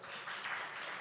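An audience at a Haitian Independence Day gathering breaks into applause, a brief dense wash of clapping from a crowd at moderate distance, with no voices over it.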